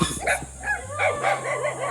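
A dog gives a few short, high yips and barks in quick succession, close and fairly loud, with a low hum underneath.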